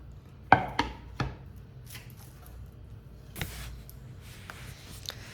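A knife cuts through a loaf of carnivore flour beef bread, with three crisp, close chopping strokes near the start followed by quieter scraping and soft slicing noises, no talking.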